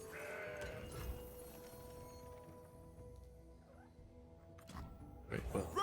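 A mountain goat unit in the card game Legends of Runeterra gives a faint, brief bleat over soft game music, followed by a few louder, sharper effects near the end.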